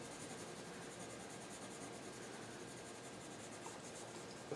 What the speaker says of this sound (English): I've got a selection of color pencils, and because I'm working on a flesh tone color paper, it's really quite easy to simply do a bit more shading.